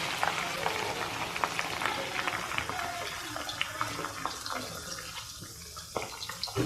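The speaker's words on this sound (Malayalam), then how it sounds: "നമ്മുടെ ചിക്കൻ ഒരുവിധം നന്നായിട്ട് ഫ്രൈ ആയിട്ടുണ്ട്" Chicken pieces frying in hot oil, a steady dense sizzle with crackling pops that holds throughout and eases slightly toward the end, close and moderately loud with no talking.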